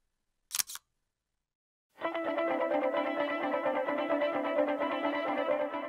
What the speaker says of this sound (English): the shutter sound is very quiet and pleasant